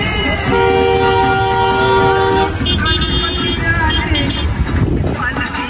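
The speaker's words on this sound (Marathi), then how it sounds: "चालू जाम ट्रॅफिक आहे" Traffic jam during a Ganpati arrival procession, with a loud sustained car horn blast for about two seconds, then shorter honks and engine rumble under a dense crowd and street noise.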